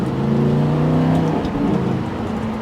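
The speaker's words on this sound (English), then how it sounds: "So being a single clutch transmission, every gear change there is that little forwards and back" A Lamborghini Gallardo with a single-clutch transmission pulls away with a loud, close engine note that rises and then drops briefly as it changes gear, the revs climbing again afterward.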